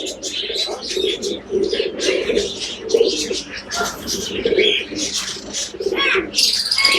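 Australian diamond doves coo repeatedly at close range, soft low calls layered under brighter chirping from other small birds throughout, with a faint voice in the background.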